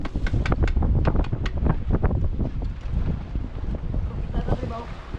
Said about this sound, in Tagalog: Lakas ang hangin. Malaki ang alon.